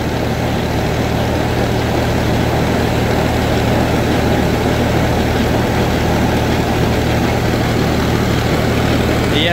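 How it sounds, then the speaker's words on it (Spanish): A SAME tractor engine runs steadily while reversing to fill a grain cart with wheat from a silo bag, a loud continuous low drone with a persistent hum and no change in pace. "yo lo que hago es darle para atrás al tractor"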